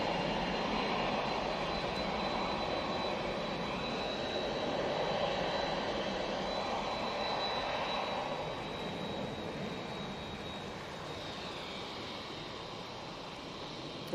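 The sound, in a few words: Virgin Atlantic Airbus A330 jet taking off to Las Vegas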